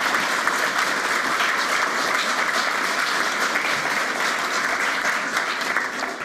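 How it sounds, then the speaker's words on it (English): Sustained, dense applause from a large audience at an awards ceremony for a 2022 Australian national final, steady and loud throughout with no speech over it. "I think we should just give them a round of applause for those that are watching us"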